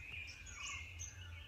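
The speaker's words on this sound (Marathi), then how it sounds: "बाकी पक्ष्यांचा भरपूर आवाज आहे." Several forest birds call faintly from a distance in thin, high chirps and whistles over a steady low background hum, with no voices.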